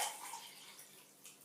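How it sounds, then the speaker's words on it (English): Liquid pouring from a container into a measuring jug, a faint, steady splashing trickle for about a second and a half with a small splash near the end. "I'm going to pour the liquid from here straight into my measuring jug."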